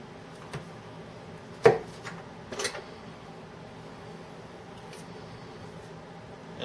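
A knife cuts pieces off raw food on a board, giving a few sharp taps and clicks, one louder chop followed by a pair of lighter ones, amid quiet background noise.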